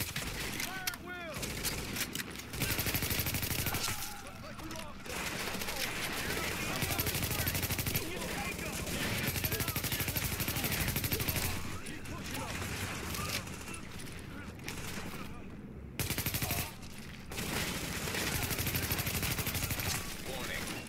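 Sustained video-game gunfire from The Division, dense bursts of automatic weapon fire with explosions and effects, loud and continuous through a PvP survival firefight, with brief quieter gaps and some in-game voice.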